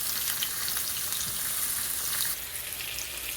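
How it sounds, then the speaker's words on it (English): A pork roast sears in a hot pan, giving a loud, continuous crackling sizzle close by that eases slightly toward the end, with no voices. "I'm going to bring it over here to the pan and get it roasting. I'm going to do 1 minute aside. This is just to sear"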